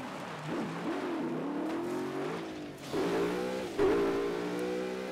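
A car engine revs and accelerates in the video game Burnout Paradise, a steady mid-pitched whine rising and shifting with gear changes, loud and alone throughout.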